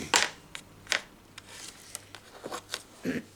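Scissors snip through a small fabric scrap up close, a few sharp crisp cuts separated by short pauses, followed by light rustling handling sounds.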